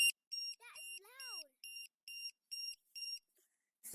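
A battery cell voltage checker sounds a series of sharp, high beeps in a steady rhythm, close by, with a brief sliding chirp early on, warning of a cell below 3.3 volts.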